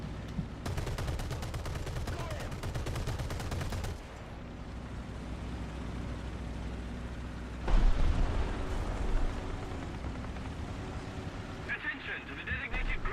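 Casemate .50 caliber machine gun in War Thunder, firing a rapid sustained burst for several seconds. It stops, then heavier booms and rumbling follow, with a voice talking over the game sounds.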